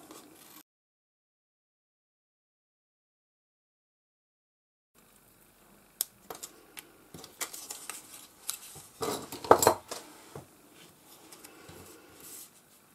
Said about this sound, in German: Die schneide ich mir jetzt noch kurz mit der Schere aus